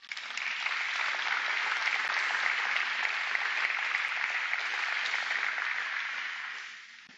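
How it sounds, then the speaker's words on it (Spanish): A church congregation applauds the Lord, giving a dense, steady roar of many hands that holds for several seconds and then cuts off. "Dale un aplauso al Señor"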